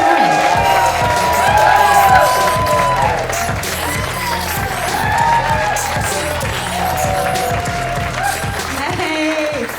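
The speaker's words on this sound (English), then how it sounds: "So can you start clapping and bring me onto the stage?" A comedy-club audience in Newcastle claps and cheers as a comedian walks on stage, a loud sustained wash of applause with whoops and shouts running throughout, with music and voices mixed in.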